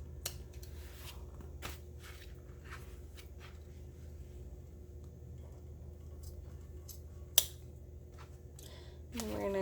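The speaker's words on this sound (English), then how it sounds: "We're going to come through and we're going to trim any extra right here." Scissors trim excess fabric from a sewn travel car organizer, producing a few faint, sparse snips over a quiet room, with one sharper click near the end.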